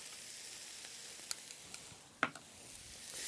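Tomato paste sizzles softly on the bottom of a stew pot while beef stew is being made, a quiet, even hiss broken by a few faint clicks and one brief clatter.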